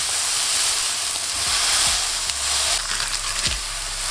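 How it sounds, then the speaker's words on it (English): Smashed burger meatballs sizzle loudly in a hot pan with a light coat of oil, a close, steady frying hiss with a few scraping pushes of a spatula. "When the pan is nice and hot, add in your meatballs."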